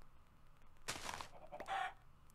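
Clucking from a chicken in a video game, two short bursts close together after a quiet start, fairly near and alone with no talk.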